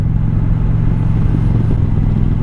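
A 2021 Indian Challenger motorcycle engine roars loud and close, a steady low throaty drone under throttle on an open road, with no talking over it.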